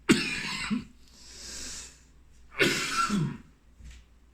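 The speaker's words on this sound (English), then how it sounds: "all my coughs are specifically timed" Two separate rough coughs a couple of seconds apart, each a harsh burst followed by a breathy rasp; close and fairly loud.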